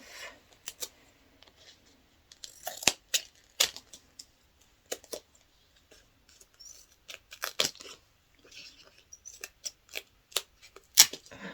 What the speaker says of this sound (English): I'm going to go ahead and use my paper scissors to snip that in half.